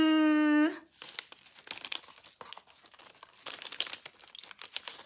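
A SO-U coffee sachet is torn open and handled, making close crinkling and tearing packet noises in irregular bursts right after a short tone.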